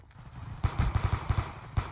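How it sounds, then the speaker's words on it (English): Rapid automatic gunfire rattles in a Counter-Strike-style game, a burst of evenly spaced shots at mid distance that stops briefly and then resumes. "A lot of gunfire over to A"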